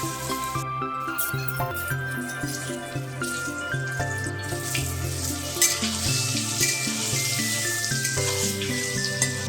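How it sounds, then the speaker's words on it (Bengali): Soybean kofta balls fry in mustard oil in a karai over a gas flame, a steady close sizzle running throughout beneath prominent background music. "এবার ভেজে নিচ্ছি মুঠাগুলো।"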